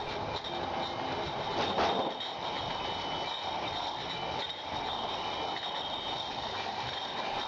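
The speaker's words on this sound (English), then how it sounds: "Inside the trailer, a crew member feeds the bottling line with empty," A wine bottling line running inside a trailer gives a steady, loud mechanical clatter and hiss with faint rattling of bottles, continuous throughout and without speech.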